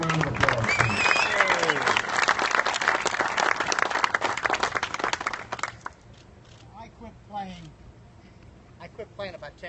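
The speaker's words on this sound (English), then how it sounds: "A warm round of applause, please" An audience at an outdoor golf benefit claps warmly for Jack Nicklaus, dense sustained applause that thins to scattered claps, with people talking and chattering over it as it fades.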